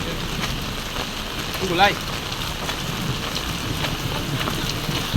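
Heavy rain pours steadily while a thunderstorm breaks out before voting, with a brief rumble near the two-second mark and a voice speaking briefly over the downpour.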